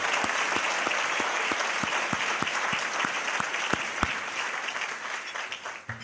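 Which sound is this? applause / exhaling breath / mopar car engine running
applause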